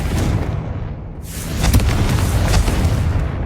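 Confringo fire spell going off in Hogwarts Legacy, a loud deep booming blast with rumbling crackle that swells and lingers, layered over continuous game noise with no talk.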